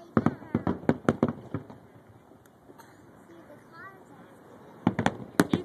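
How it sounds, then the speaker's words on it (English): Big fireworks burst at a Washington, DC display, a cluster of loud sharp booms and crackles, a quieter gap with distant rumble, then another volley of close blasts near the end, with voices talking faintly in between. "what do you think of those fireworks?"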